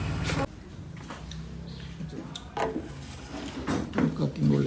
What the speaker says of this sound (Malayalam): അതിൻ്റെ ചിക്കൻ വറുത്ത് വരുന്നുണ്ട്.